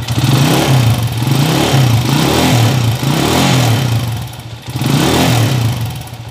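A car engine revved hard several times in quick succession with a fine, fast ticking running through it, loud and close with brief dips between revs.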